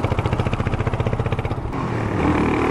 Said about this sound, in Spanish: El sonido del escape es bastante bueno, similar a lo que hemos visto en otras motos